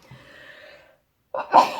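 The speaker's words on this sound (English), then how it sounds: "Oh gosh, I'm sneezing now." A single close sneeze bursts out after a soft breathy exhale and a short pause, sharp and loud with a quick fade.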